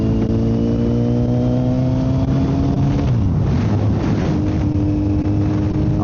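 A Kawasaki Z900 motorcycle with a full M4 exhaust pulls away in first gear, its engine note climbing loudly and steadily under heavy wind noise buffeting the microphone, with no talking.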